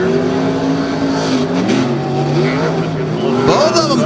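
Off-road racing trucks cornering in a Tough Trucks Challenge championship race, loud engines droning and shifting pitch together as they round the bend, with an announcer talking over the roar.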